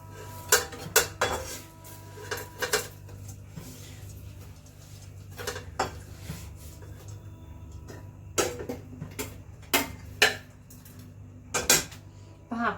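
Fried eggplants being lifted out of a wok of hot oil, with repeated sharp metal clinks and scrapes of utensil against the pan over a low steady hum, coming in irregular bursts.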